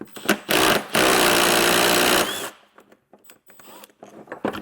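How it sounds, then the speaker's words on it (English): A 9/16 socket drives a carriage bolt tight while mounting Firestone Ride-Rite air bags on a 2022 Ford F-250, giving a loud, steady whir of over a second that stops abruptly, followed by faint clicks and handling noises. "I'll take a 9/16 socket, and I'm going to tighten this most of the way now."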